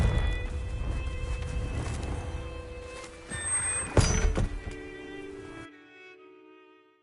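The Confringo spell cast in the video game Hogwarts Legacy on PS4, a sharp explosive thunk landing around the four-second mark amid game ambience, with a short ringing tail before things cut to near silence.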